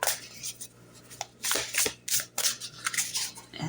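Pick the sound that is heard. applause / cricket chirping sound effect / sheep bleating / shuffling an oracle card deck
shuffling an oracle card deck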